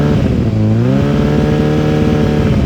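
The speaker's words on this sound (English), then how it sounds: "Okay, bike is already warm. I'm gonna rev it up." A loud 1989 Honda CBR1000F motorcycle engine without baffles revs up from idle, the pitch climbing and holding at a steady high drone, harsh and unmuffled, with no voices.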